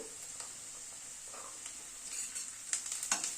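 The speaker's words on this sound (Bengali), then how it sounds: "গাজরটা দিয়ে একটু নাড়াচাড়া করে নিচ্ছি।" Carrots frying with onion and garlic for dal sizzle in a pan under a steady high hiss, with a few soft stirring scrapes and clicks from the spoon toward the end.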